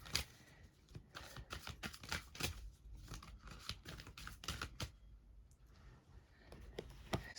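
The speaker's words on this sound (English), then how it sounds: "I'm just going to shuffle some cards" Tarot cards being shuffled by hand, a quiet, close series of crisp riffling snaps and soft slides in irregular bursts throughout, with no talking.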